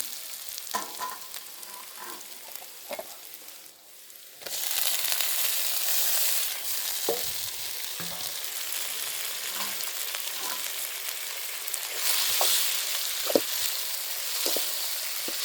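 Onion, garlic and curry leaves frying in a pan over a wood-fired stove: a steady close sizzle and crackle with occasional stirring scrapes and taps, swelling louder partway through, and no talking.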